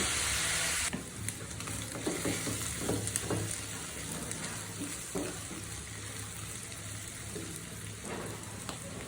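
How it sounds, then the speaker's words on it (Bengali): Chicken meat frying in a pan makes a steady, close sizzle with repeated scraping strokes as it is stirred, lasting throughout without any talk. "যেন মুরগির মাংসটা একদম সিদ্ধ হয়ে যায়, এরকমভাবে ভাজতে হবে।"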